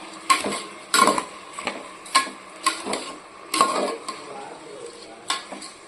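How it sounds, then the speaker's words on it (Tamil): Basmati rice sautéed in ghee with salt, a spoon scraping and knocking against the pan in a close, irregular rhythm of sharp strokes over a faint sizzle, with no talk. "அதையும் போட்டு கொஞ்சம் நெய்யில் வறுத்து எடுத்துடலாம்"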